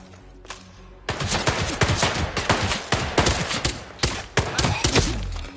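Rapid bursts of automatic gunfire in the video game Hitman 3, loud and close, starting abruptly after a quiet moment and continuing in dense volleys with brief pauses.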